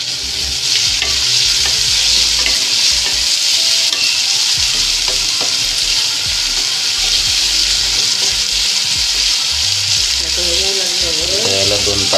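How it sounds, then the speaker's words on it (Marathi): Chopped onion sizzles in a pan while a spoon stirs it slowly, with scraping and clinking over constant frying hiss, close and fairly loud; a faint voice or background sound is present at times. "तर या कांद्याला काय करूया, थोडंसं आपण मिक्स करून घेऊया हळूहळू प्रमाणे."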